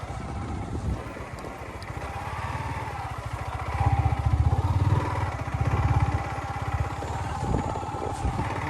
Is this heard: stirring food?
no